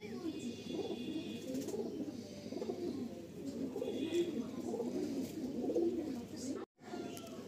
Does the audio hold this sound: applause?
no